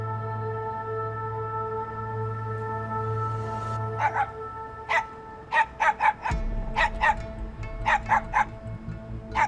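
A dog barks and yips in a rapid series of sharp, agitated bursts over a steady low hum, fairly close.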